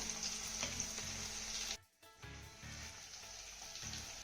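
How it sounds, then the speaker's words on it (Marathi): Thinly sliced onion sautés in a pan with green chili and garlic, a steady close sizzle that drops out for a moment, as if the pan is stirred or lifted, then resumes. "हा कांदा देखील आपल्याला चांगला हलक्या सोनेरी रंगावरती परतून घ्यायचा आहे"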